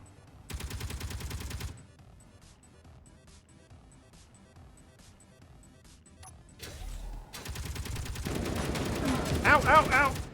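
Gunfire in Space Engineers aimed at a bot: a short burst, a pause with scattered faint clicks, then a long loud sustained barrage that grows heavier toward the end.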